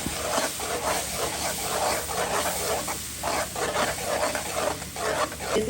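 Garlic, tomato paste, turmeric, chili and coriander frying in hot oil for a mixed vegetable curry with dried fish, giving a steady broadband sizzle with scraping and stirring bursts throughout.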